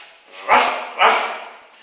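A human voice imitates a dog, giving two loud, close, sharp barks in quick succession with a short gap between them.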